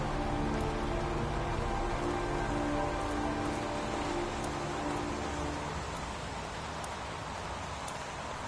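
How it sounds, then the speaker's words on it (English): Steady heavy rain pours down in a dense, continuous hiss in the video game Heavy Rain, with a faint low hum underneath and no voices. "Hasn't stopped pouring since I arrived"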